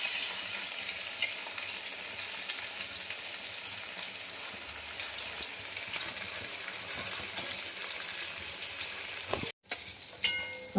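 Hot oil in a wok over a high gas flame, giving a loud, even, close sizzle that runs steadily before a brief break and a few clinks near the end.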